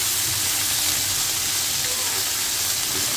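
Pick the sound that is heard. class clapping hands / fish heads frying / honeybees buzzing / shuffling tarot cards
fish heads frying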